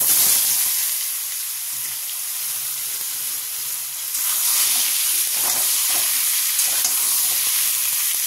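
Bottle gourd and other vegetables hit a pan of hot oil tempered with bay leaf and whole cumin, giving a steady close sizzle and hiss with occasional stirring scrapes, no voices.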